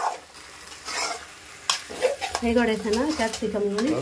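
A spoon stirs chicken and capsicum through curry masala in a hot pan, giving scraping strokes over a soft sizzle, with a sharp clatter partway through and a rhythmic scraping run near the end.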